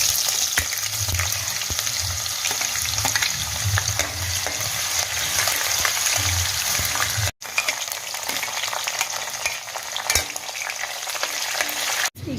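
Chopped potatoes fry in a cumin tempering for poha, sizzling steadily up close with bursts of stirring and scraping in the pan.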